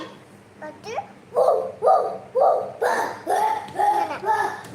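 A voice repeatedly imitates a dog's barking and yipping, a series of short, rising vocal bursts close to the listener.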